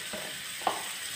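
Medium tomatoes go into a hot kadai of dhaba-style matar gosht, giving a steady close sizzle with one brief sharp hiss burst as they land.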